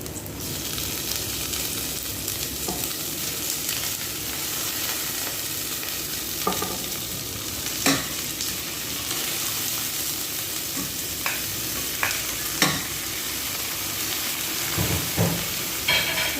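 Shrimp fry and sizzle loudly in a pan for a sautéed upo and pancit canton dish, a steady hissing crackle punctuated by intermittent clacks and scrapes of stirring.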